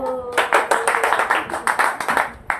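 Family members clap together at a home birthday celebration, with a quick run of sharp, close handclaps in an uneven rhythm after a brief voice at the start.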